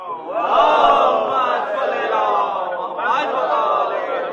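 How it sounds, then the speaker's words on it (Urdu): A large majlis gathering chants salawat together in one loud, continuous wash of many voices that swells and dips over a few seconds. "اور عزیز خدا بلندتر صلوات"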